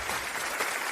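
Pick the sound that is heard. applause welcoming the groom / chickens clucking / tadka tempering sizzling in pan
applause welcoming the groom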